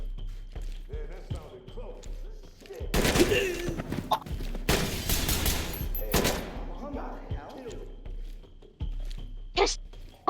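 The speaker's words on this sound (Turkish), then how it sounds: "pompalıyla sıktı" Bursts of shotgun and other gunfire in the tactical shooter Ready or Not come as loud clustered volleys, with players talking between the shots.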